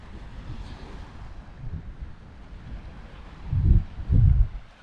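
Wind buffeting the microphone on a Danish island beach, low rumbling gusts with soft surf beneath, swelling to two stronger bursts near the end.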